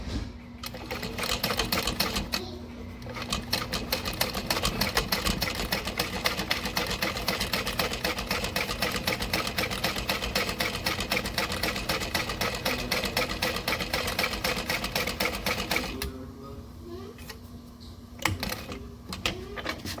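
A sewing machine runs steadily for about fifteen seconds, stitching a backpack strap at a 5 stitch length, its fast even whirring close and loud before it stops and a few handling clicks follow.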